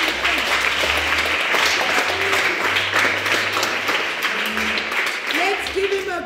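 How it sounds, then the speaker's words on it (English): An audience claps steadily and densely for several seconds, a continuous close burst of applause with talking and voices underneath. "Please clap for me."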